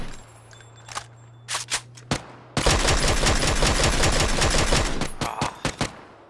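Gunfire in a battle royale video game: a few scattered single shots, then a sustained rapid burst of automatic fire lasting several seconds, loud and close, followed by a few more shots.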